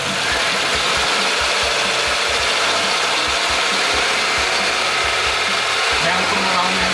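Car engine slowly revved from a 700 rpm idle toward 4000 rpm during a MAF sensor test, a loud, close, continuous mechanical drone with a steady rattling texture.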